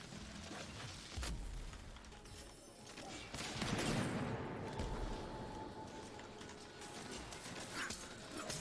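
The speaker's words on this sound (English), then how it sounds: "Little barrage grenade or whatever it's called" Barrage grenade explosions in the video game Dauntless: a string of heavy, crackling blasts with the biggest burst in the middle, mixed into busy combat effects and a low rumble.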